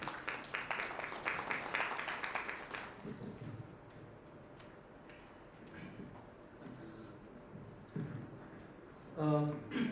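Loud applause fills the first few seconds at a trade conference in Ludhiana, then fades into a quieter room with a person beginning to speak.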